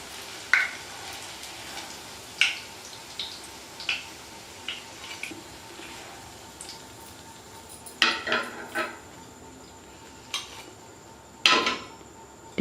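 Fried aloo tikkis (potato patties) lifted out of a pan with the stove switched off: a series of sharp, separate metal clinks and scrapes from utensil on pan, with a faint sizzle lingering underneath.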